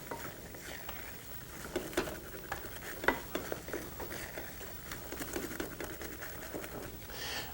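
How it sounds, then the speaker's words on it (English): Chickpea flour laddu mixture stirred in a pan, a soft continuous scraping and shuffling with a faint sizzle, with light irregular knocks of the spoon against the pan, fairly quiet throughout. "Don't forget to keep stirring"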